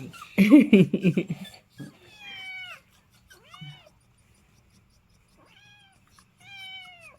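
A kitten with an injured leg cries in a series of high, plaintive meows heard up close. A short burst of human voice sounds at the start, with quiet gaps between the calls.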